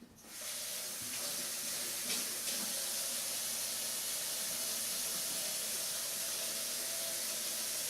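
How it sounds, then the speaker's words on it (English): A kitchen tap runs steadily into a sink during handwashing while raw chicken is prepared, giving a constant, fairly close hissing rush with no talk over it. "you'll definitely want to wash your hands"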